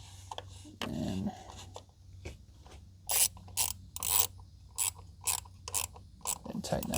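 A ratchet with an 8mm socket clicks in short bursts while snugging an ignition coil keeper bolt on a 2016 Ford Transit Connect, crisp close ratcheting pawl rattles repeated in quick strokes.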